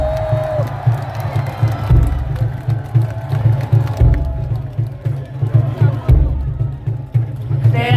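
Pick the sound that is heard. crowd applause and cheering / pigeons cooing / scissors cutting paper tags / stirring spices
crowd applause and cheering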